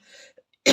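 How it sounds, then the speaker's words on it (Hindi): A single short throat-clearing cough from a person with a sore throat, close and abrupt at the very end after a faint murmur. "इसलिए थोड़ा सा खांसी आ रही है"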